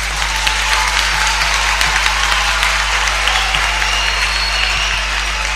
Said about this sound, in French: Allons-y, applaudissons.